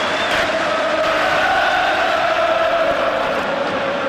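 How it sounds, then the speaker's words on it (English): Applause and crowd roar echo around Anfield stadium for Peter Beardsley at a 1987/88 First Division match between Liverpool and Nottingham Forest, a dense, steady wash of distant clapping and cheering sustained throughout. "applause will echo round Anfield. And it's all for Peter Beardsley"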